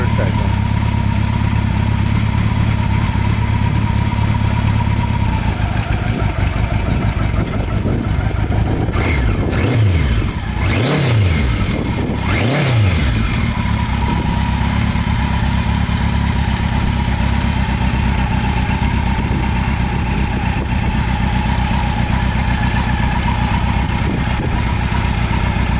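A fully restored 1973 Kawasaki Z1 motorcycle engine idles steadily and loud, with a few sharp revs rising and falling near the middle before settling back to idle.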